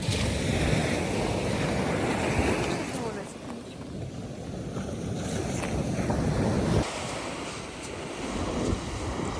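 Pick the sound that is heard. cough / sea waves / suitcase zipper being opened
sea waves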